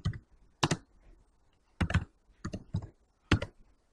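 Typing on a computer keyboard, entering an HTML h1 heading tag, produces short bursts of crisp key clicks in irregular clusters with brief pauses between them, close and clear, with no talking.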